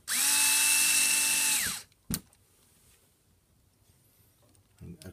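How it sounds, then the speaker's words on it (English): A Hitachi cordless drill on high speed with torque setting 7 drives screws into a Kyosho MP differential case, a close, high-pitched motor whir lasting under two seconds, followed by a sharp click and faint handling noises. "high speed on the Hitachi with 7 torque setting. Screw halfway down again."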